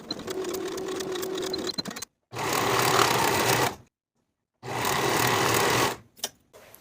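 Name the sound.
sewing machine sewing dress side seams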